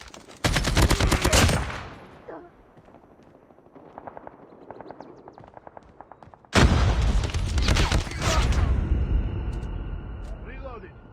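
Gunfire in Call of Duty Mobile ranked multiplayer: a loud burst of automatic fire, quieter scattered shots and clicks, then a second long sustained volley, with in-game voice callouts mixed in.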